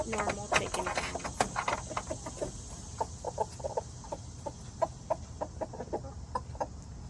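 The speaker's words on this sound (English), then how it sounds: "This is a rooster telling his hens he's got treats for them." A backyard rooster makes his food call to his hens: quick, choppy clucks in repeated bursts, close and fairly clear, carrying on throughout with short pauses between clusters.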